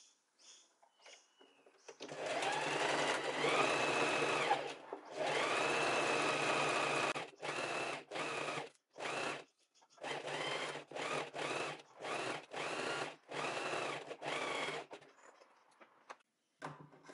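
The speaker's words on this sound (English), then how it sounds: "So now we want to sew from here till down here" Sewing machine stitching down a blouse strap, run in several long bursts and then a string of short stop-start runs with brief pauses between, close and clear with no talking.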